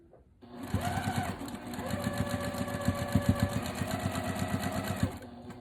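Sewing machine stitching cotton quilt seams, a fast even rattle of needle strokes close up with a soft whine that starts, runs steadily for several seconds, then stops.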